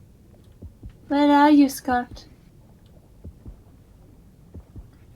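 A low, muffled heartbeat thumps steadily in the game Depth, soft and regular, with a short spoken line breaking in over it partway through.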